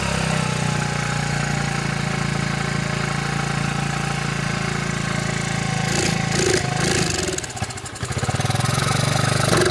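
A cold-running engine on a restored 1985 Honda ATC 70 three-wheeler idles steadily and loudly, with a few brief rattles and a short dip near the end.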